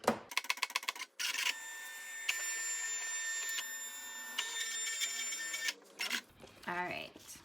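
A Silhouette cutting machine cuts a design: rapid stepping clicks, then a long steady whirring hum of the motor with high tonal whine, ending in a brief rattle, close and alone.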